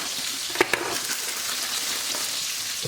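Evaporated milk is stirred into a scalloped potato mix, giving a soft, steady wet swishing. It is close but quiet, with a couple of faint knocks near the start.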